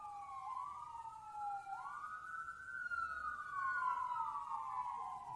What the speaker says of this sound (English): The siren screams down Tuolumne Boulevard.